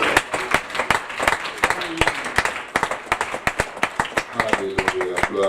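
A church congregation applauds during an evening service, a dense, lively clapping that rises and falls in uneven bursts, with voices underneath.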